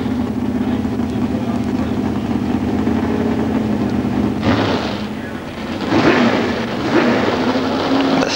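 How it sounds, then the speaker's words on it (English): Drag racing cars, a Chevy Camaro and a Pontiac Firebird, rumbling at the start line of an NHRA event, a steady loud engine drone with a surge of revving partway through. "So Kurt Johnson in the Chevy Camaro, Mike Edwards in the Pontiac Firebird"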